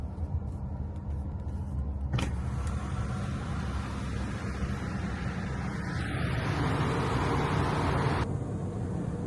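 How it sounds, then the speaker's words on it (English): A car passing through the Buc-ee's car wash in Katy, Texas, with a steady loud rush of spraying water and machinery noise all around, and a sharp shift in tone partway through. "I'm gonna give my car a little bath before I head out. The Buc-ee's car wash here."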